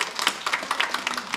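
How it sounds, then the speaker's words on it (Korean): A church congregation at a Christmas service applauding, a brief burst of scattered, uneven hand claps in a room, moderately loud, with no talking over it. "다시 한번 우리 박수 한번 해주시죠"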